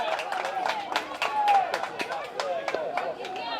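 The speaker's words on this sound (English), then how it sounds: "The crowd applauding that." A crowd at a youth baseball game claps and cheers loosely in the stands, with scattered claps over chatter and someone talking throughout.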